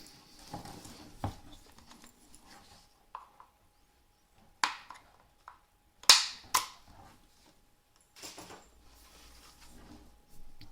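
Sharp metallic clicks and taps ring out in sparse, irregular bursts, close and fairly quiet, as a cleaning rod kit is worked free from the handle of a rifle, with near-silence between the knocks.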